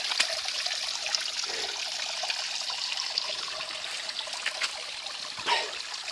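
River water trickles and flows quietly and continuously near a source, with faint splashes and small irregular bursts over a soft steady wash, and no voices.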